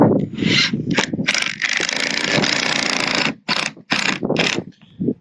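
A power drill drives 3-inch screws through wood into a rafter on a mobile home roof. The whirring, grinding bursts are loud and close and come in several runs of varying length, separated by short pauses.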